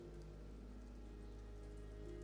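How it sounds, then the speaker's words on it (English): Steady, soft rain hiss falling continuously in the dark fantasy video game Ender Lilies, a dense even wash with no voices over it. "But then the rain began to fall."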